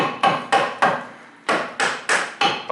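A hammer strikes a car driveshaft axle seven times in uneven succession, each a sharp, ringing metallic blow that decays quickly, close and loud with no talking.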